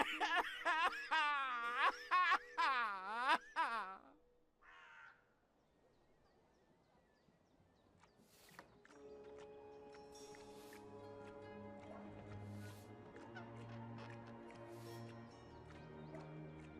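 In Dreamfall Chapters, a bird caws in a harsh rising and falling run for about four seconds. Game ambience follows, then a sustained musical drone.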